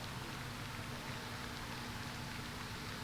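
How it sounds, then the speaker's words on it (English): Steady rain hisses down over an outdoor high school football field, a constant broadband wash with no distinct drops standing out, fairly faint and uniform throughout with no voices. "The rain picked up a little."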